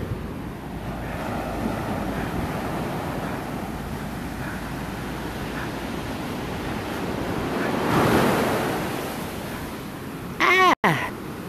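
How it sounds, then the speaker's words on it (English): Surf and wind at Cable Hut Beach in Jamaica, with waves washing in continuously and a louder swell near the end, wind buffeting the microphone close up, and no voices. "It's the Cable Hut Beach."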